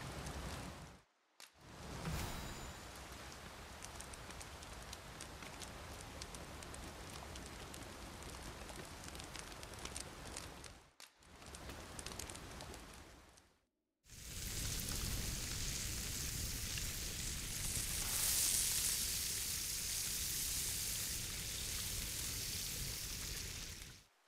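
Steady rain falling in the video game Dragon's Dogma, a continuous hiss of drops broken by brief silent gaps, then returning brighter and denser toward the end.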